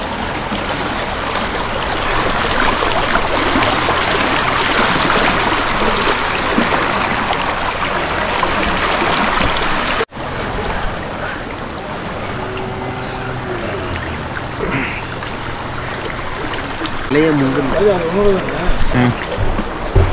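Steady rushing water of a forest stream at Puliyancholai fills the first half, then continues more softly under scattered voices and splashes in the second half.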